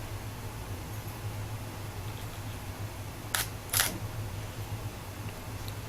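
A Godox TT350 flash fires on a Pentax camera, two quick crisp shutter-and-flash clicks close together against a steady faint room hiss, with no talking.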